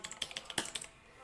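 Computer keyboard keys pressed in quick typing, about a dozen crisp clicky taps in an uneven burst, close and fairly quiet, with no talking.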